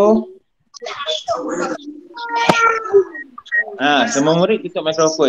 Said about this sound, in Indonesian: Cikgu dengar kucing bunyi ya tu.